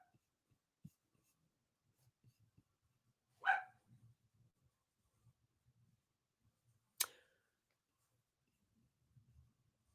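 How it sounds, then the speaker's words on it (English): A pet dog barks twice outdoors, each bark a short loud burst a few seconds apart, with quiet background between. "My dog is barking now to come back in."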